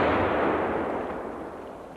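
A single loud firearm shot at an outdoor shooting session, a sharp close blast followed by a long broad rumbling decay over about two seconds, with no speech.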